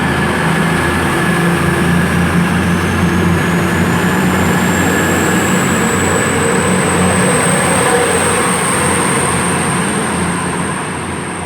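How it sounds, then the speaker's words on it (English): A nine-carriage Class 222 diesel train formed of units 222-010 and 222-103 departs platform 3 at Leicester for London St Pancras, a steady loud engine rumble and rolling wheel noise with a rising whine, continuous throughout. "it is departing the 1125 to London St Pancras"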